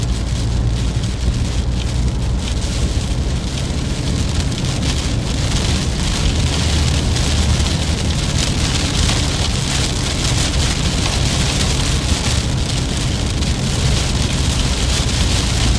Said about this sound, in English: Alright, we're starting to feel the rain.